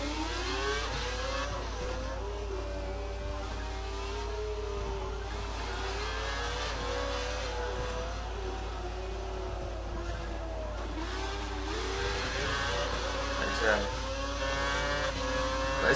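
A Formula One race car engine in F1 2012 revs and accelerates steadily, its whining pitch rising and dipping through gear changes, loud and sustained with faint tire squeal and occasional talk over it.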